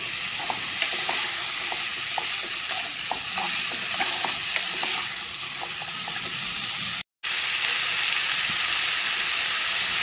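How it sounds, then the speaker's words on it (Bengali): Fried snake gourd stir-fried with spice paste in a pan, loud steady sizzling with quick repeated scraping stirs, broken by a brief cut to silence before the sizzle resumes, no voices. "দিয়ে মশলাটার সাথে ভালো করে কষিয়ে নেব চিচিঙ্গিগুলোকে"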